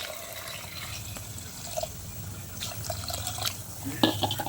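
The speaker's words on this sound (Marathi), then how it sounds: "आपण इकडं पाणी ओतून घेऊया त्याच्यात तोच पाणी ओतून घ्यायचं" Water poured into a pot at home, a soft trickling and dripping splash with small drops toward the end, fairly quiet with a faint low background hum.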